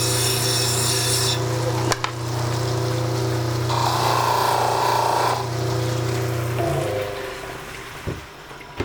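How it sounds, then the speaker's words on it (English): Turquoise cabochon stones are cut on a soft abrasive wheel, giving a loud, steady grinding rasp over a constant motor hum that changes pitch partway through and winds down near the end. "We just cut two beautiful turquoise stones."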